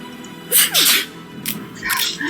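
Cartoonish character sneezes from the video game Alice: Through the Looking Glass, two or three sharp bursts in quick succession over a soft game background, loud and close.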